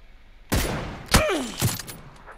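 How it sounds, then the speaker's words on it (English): Sniper rifle shots in PUBG crack out as three sharp, separate reports, each with a brief ringing tail. A short whistling sweep follows the second shot. "Somebody just sniped me."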